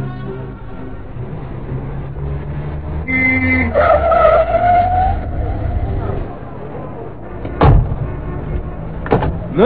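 A staged car sound effect for a radio drama: an engine drones and revs under a voice, then tyres squeal in a drawn-out skid, followed by a couple of sharp thumps like a door.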